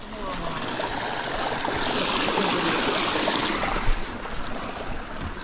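A river rushes over rocks in a steady broadband wash during a bike sports camp, loud and continuous throughout with a slight swell in the middle.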